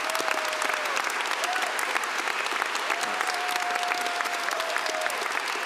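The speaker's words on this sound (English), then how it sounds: "a round of applause for the mentorship program as well" Conference audience at the EuroPython 2025 closing applauds warmly, a dense, steady wash of many hands clapping that holds at full strength for about six seconds without a break.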